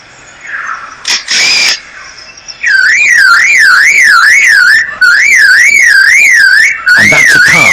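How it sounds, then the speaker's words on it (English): A car alarm blares loud and close with a rapidly warbling, rising and falling siren tone that repeats in long cycles, preceded by a few short squeals. "And that's a car alarm."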